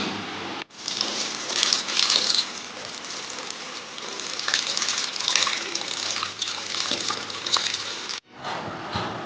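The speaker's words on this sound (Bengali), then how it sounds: "এবার এগুলোকে ভালো করে জলে ধুয়ে নেব" Kharkol leaves are washed by hand in water, with a loud, continuous close splashing and swishing that breaks off briefly near the end and then resumes.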